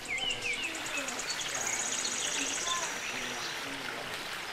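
Small birds chirp and call on and off at Riung Gunung in Jantho, Aceh, set against a steady bed of insect and cricket buzzing and a faint rush of flowing water, an open outdoor ambience that stays even throughout.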